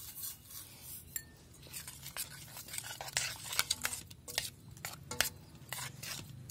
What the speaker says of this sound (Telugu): దీంట్లో మిక్స్ చేసుకుని తింటే బాగుంటుందని ట్రై చేస్తున్నా